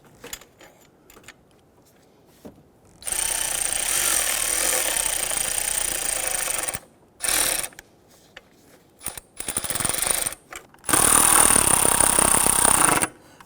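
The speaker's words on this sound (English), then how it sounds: "Once we get those started, let's go ahead and snug those down." Someone snugs down 10mm valve cover bolts on a 4.0L V6 in a Nissan Frontier with a powered driver or ratchet, which gives loud, close, sustained whirring bursts of several seconds, a short burst in between, and small clicks and clanks around them.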